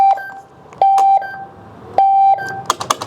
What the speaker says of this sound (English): Alarm's going off